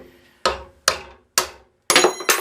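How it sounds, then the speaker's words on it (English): Hammer blows striking a stuck bolt during a restoration, five sharp metallic impacts in an uneven rhythm with ringing decay, the last two closer together, loud and close with no talking. "We're like 30 minutes into trying to break this one frickin' bolt out."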